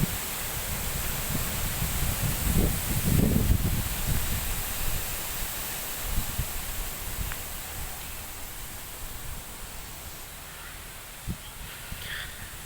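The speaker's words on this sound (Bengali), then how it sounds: "এ দেখেন এখনো কি পরিমাণের বাতাস হচ্ছে, বাতাসের বেগ কি দেখেন" Strong cyclone wind roars steadily through a dense bamboo grove, a broad rushing hiss with gusty swells and occasional creaks and knocks from the swaying stems.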